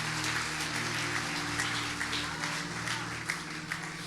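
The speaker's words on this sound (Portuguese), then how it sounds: "Aplauda ao Senhor, igreja" Church congregation applauding during a worship service, a steady wash of many hands clapping under a low sustained musical drone, fairly even and continuous throughout.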